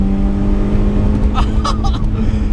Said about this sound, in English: That noise of the engine, oh, I just love it.